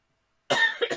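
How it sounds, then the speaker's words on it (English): A burst of coughing, sharp and close, follows half a second of silence and comes in two or three quick hacks. "Oh, sorry about the coughs."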